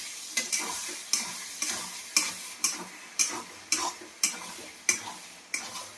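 Lote (Bombay duck) fish fries in a pan while being stirred, a soft sizzle broken by about ten sharp, regular scraping strokes of the spatula, close and clear with no talking.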